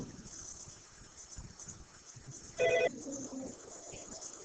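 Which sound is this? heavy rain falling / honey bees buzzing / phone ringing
phone ringing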